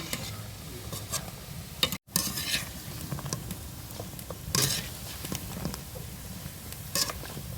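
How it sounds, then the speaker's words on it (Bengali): Madan katkati dough pieces deep-frying in hot oil, a steady crackling sizzle broken by repeated scraping and stirring strokes from a utensil, close by with no talk. "এবার আস্তে আস্তে নেড়ে চেড়ে মচমচ করে ভেজে নেবো।"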